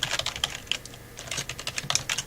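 Fingers tap out numbers on a computer keyboard in quick, uneven bursts of close, crisp keystrokes, with a brief pause partway through and no talking.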